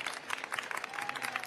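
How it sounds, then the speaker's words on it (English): Brief audience clapping at a floral design competition, a quick, busy patter of many hands at moderate distance, faint and continuous throughout. "You can clap."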